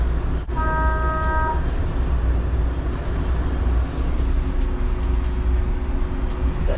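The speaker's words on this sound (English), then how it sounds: "The sounds of Atlanta traffic." Busy Atlanta street traffic on Edgewood Avenue, a steady engine and road rumble with a brief car horn toot early on and a faint tonal horn or hum later, no talking.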